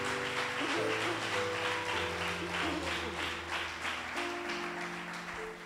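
A church congregation applauds steadily for several seconds in a dense, continuous wash of clapping, with sustained organ or keyboard tones beneath it, gradually easing off toward the end.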